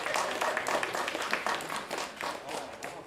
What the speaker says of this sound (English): Round of applause and thanks to Jeanette